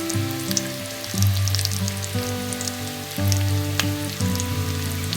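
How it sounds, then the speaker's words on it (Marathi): Finely chopped onion sautéing in a pan, a loud continuous sizzle with light crackling and occasional spatula taps, close up and with no speech. "बारीक चिरलेला कांदा घालूया मस्त परतून घेऊया"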